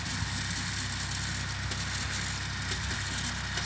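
A Massey Ferguson 245 tractor engine idles nearby with a steady low, rumbling chug that holds an even rhythm through the short stretch, with no voices over it.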